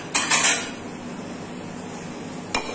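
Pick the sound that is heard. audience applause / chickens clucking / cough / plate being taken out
plate being taken out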